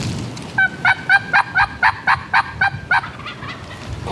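Wild turkey gobbling outdoors, a loud rapid series of about ten sharp rattling gobble notes in quick rhythm, fairly close, then trailing off, over faint background noise.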